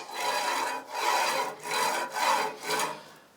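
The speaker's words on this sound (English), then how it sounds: "So then you simply run your knife along this bar" A knife blade is drawn along a sharpening jig bar in five steady strokes, each a soft rasping scrape with brief pauses between, close and alone.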